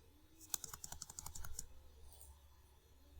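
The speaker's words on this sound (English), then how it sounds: "press Alt plus 13 and Alt plus 14" A quick burst of computer keyboard keys pressed while entering Alt-code symbols in Word, about a dozen close, crisp taps in a little over a second, followed by quiet room tone.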